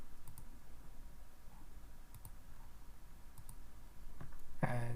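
Scattered clicks of keys on a computer keyboard as a short value is entered in a design program, a few quiet taps spaced apart, then a firmer burst of keystrokes at the end.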